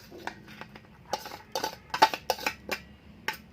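Spoon scraping and clinking against a bowl or pan while mashed dried fish bharta is mixed with added ingredients, a series of short, close, sharp taps and scrapes at irregular intervals with no talk.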